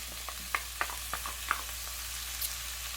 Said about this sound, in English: What we're going to do is add that diced tomato,